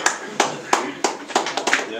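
A small club meeting breaks into short bursts of clapping approving the chairman, several distinct sharp rounds of hands from a few people close by, spaced unevenly across the moment.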